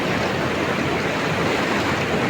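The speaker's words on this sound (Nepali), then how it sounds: "यो चाहिँ अरुण नदी है अरुण नदी" Rushing water of the Arun river, a broad steady roar of churning flow heard close and loud without a break, with no voices over it.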